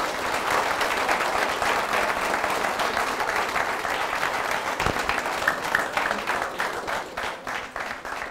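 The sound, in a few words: studio audience applause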